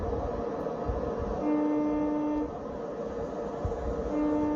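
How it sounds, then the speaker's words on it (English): Train Sim World 2020 scene at Old Oak Common depot with a class 43 locomotive: a steady train horn tone sounds twice over a continuous low rumble of the idling train. "There's one of the horns."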